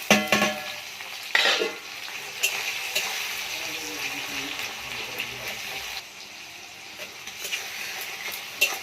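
Chopped tomato goes into onions browning in a pan on a clay stove, with a steady sizzle, sporadic stirring and scraping knocks, and a brief watery splash early on.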